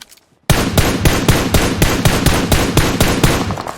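Rapid automatic gunfire in the PUBG Mobile video game, a loud close burst of evenly spaced shots starting abruptly after a brief silence and continuing steadily for about three seconds.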